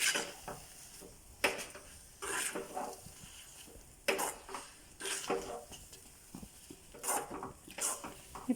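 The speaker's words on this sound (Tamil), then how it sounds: "நம்ம பொரித்து வச்சுருக்க முந்திரியையும் அது கூட சேர்த்து நல்லா கிளறி விட்டுக்கலாம்" Kesari being stirred with cardamom powder and fried cashews, a spoon scraping and clinking against the pan in repeated bursts with a faint sizzle between strokes, close and moderately loud.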